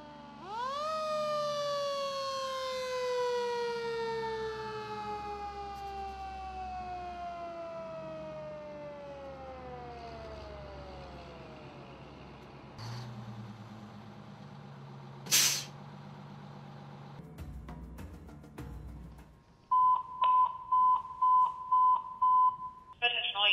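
A Cobb County fire engine siren wails in long falling sweeps, then an air brake hisses sharply, followed by a series of short, loud horn-like blasts.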